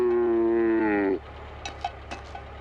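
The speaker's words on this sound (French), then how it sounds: "Des vaches mutantes?" A single long, loud cow moo in a cartoon setting, a sustained harmonic low call that breaks off after about a second, followed by faint scattered knocks and background noise.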